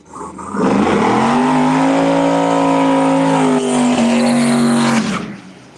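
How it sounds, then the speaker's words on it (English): A Mustang drag race car at a motorsports park revs loud and close for about five seconds, its engine holding a steady high drone with a brief dip near the end, then cutting off. "Brian Chucky Davis from Street Outlaws backing the Mustang up"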